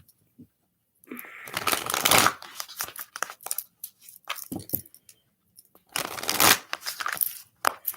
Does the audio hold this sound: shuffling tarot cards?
yes